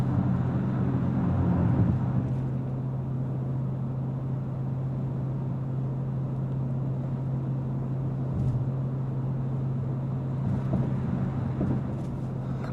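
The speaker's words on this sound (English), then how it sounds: "listen to the cabin volume at highway speeds" Steady low drone and broadband road roar fill the cabin of a 2026 Dodge Durango Hellcat cruising at highway speed, a continuous hum with tire noise and no voices.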